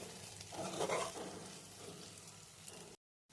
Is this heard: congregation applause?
no